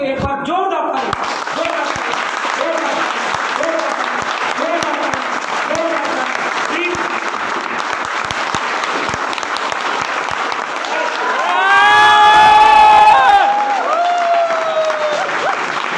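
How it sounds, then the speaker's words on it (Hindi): Audience at a showroom inauguration ceremony in Baburi, Chandauli, Uttar Pradesh, breaking into sustained loud applause that swells briefly near the end, with someone speaking over the start and end. "एक बार जोरदार ताली।"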